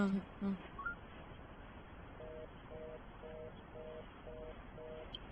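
A phone ringback tone repeats six times in even pulses over a faint hiss, with a few tones heard at the start.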